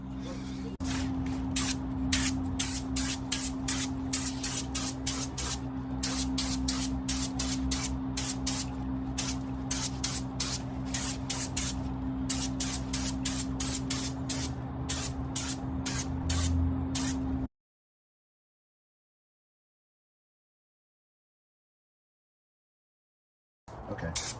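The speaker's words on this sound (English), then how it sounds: "I'll spray a little brown, a little brown, a little brown, a little more brown here" Brown paint sprayed onto a stacked stone column panel in rapid, evenly spaced short bursts under a steady hum for about seventeen seconds, then silence; someone talks over the spraying.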